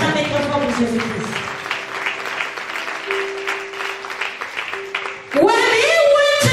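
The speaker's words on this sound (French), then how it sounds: "Put your hands together for Jesus Christ." Applause and clapping for Jesus Christ from a church congregation during preaching, a broad wash of hands rising under a preacher's amplified voice, swelling loudly near the end as the speaking stops.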